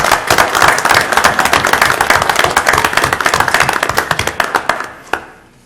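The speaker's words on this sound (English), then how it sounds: "And I would like to applaud her for that." An audience at a board of education meeting applauds a former member, with loud, dense clapping from many hands that keeps up for several seconds before thinning out to a few last claps and quiet.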